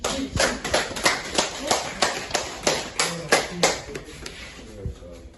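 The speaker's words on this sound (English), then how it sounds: "let us clap while he makes his way to the stage" Audience clapping at a school debate on running an educational institution, a regular series of sharp claps heard fairly close while a speaker walks to the stage.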